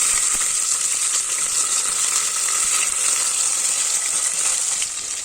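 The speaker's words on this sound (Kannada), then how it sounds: "ಈರುಳ್ಳಿ ಇವಾಗ ಚೆನ್ನಾಗಿ ಫ್ರೈ ಆಗಬೇಕು" Onions fry in plenty of hot oil for biryani, giving a loud, steady, close sizzle that runs unbroken with a faint scrape of stirring.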